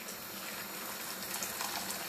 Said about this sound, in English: I'm gonna go ahead and I'm gonna add some water to it